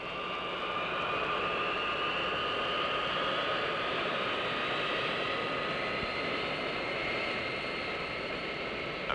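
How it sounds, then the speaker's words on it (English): An airliner taxis toward the end of the runway, its jet engines giving a steady, loud broadband roar with a high whine running unbroken throughout and no voices. "receives clearance to taxi to the end of the runway"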